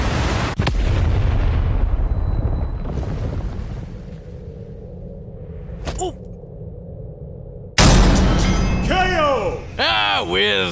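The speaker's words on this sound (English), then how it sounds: "Nothing like a firework to end the night." A firework bursts during an animated superhero battle between Captain Marvel and Shazam, with a sudden loud broadband blast and crackle following a whistling whiz amid rumbling action effects and brief voices.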